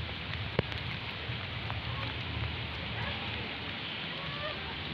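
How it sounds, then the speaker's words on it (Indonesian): Heavy rain pours steadily outside a stadium, a dense, even hiss with faint scattered drips and one sharp knock, and no speech. "Wah, ini hujannya deras banget nih. Ini awet banget nih hujannya."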